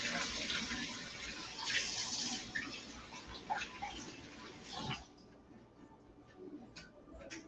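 Tap water runs over a couple of fresh herb sprigs being rinsed under the faucet, a steady splashing hiss with small clicks and drips that drops to a quieter trickle partway through.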